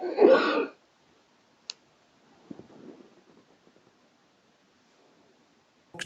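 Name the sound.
coughing and throat clearing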